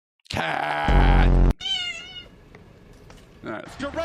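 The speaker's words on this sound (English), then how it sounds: "Cat." A cat gives a loud, close, drawn-out meow lasting about a second, followed by a wavering, fainter cry and then scattered softer noises.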